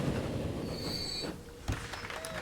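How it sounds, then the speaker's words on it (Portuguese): A train in Transport Fever 2 pulls into a station on a tropical island, wheels squealing in high sustained tones over rumbling rail noise, with a sharp clank partway through. "O trem tá chegando na estação."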